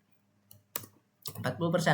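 Typing on a computer keyboard in a spreadsheet: a few sharp, isolated key taps, then a quick cluster of clicks near the end, close and fairly faint.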